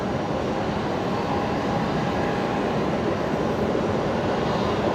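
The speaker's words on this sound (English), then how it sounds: "Jetstar 820 coming in from Sydney first" A Jetstar airliner arriving at Brisbane Airport from Sydney, heard as a steady, broad roar of approaching jet engines that holds constant throughout, with no talk over it.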